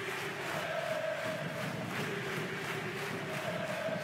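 A basketball crowd at a Champions League game between UNET Holon and PAOK roars steadily after a big block, a dense sustained cheer with no breaks.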